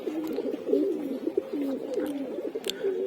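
Caged pigeons coo in a continuous run of low, rolling, bubbling calls close by, with a few faint clicks and rustles scattered over them.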